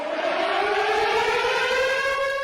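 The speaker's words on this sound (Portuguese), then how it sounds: "ele divulgou um vídeo reproduzindo por 20 segundos os sons das sirenes que são acionadas quando um ataque das tropas russas se aproxima" Air raid sirens warning of an approaching Russian attack in Kyiv, a loud sustained wailing tone rising slowly in pitch, heard alone without voices.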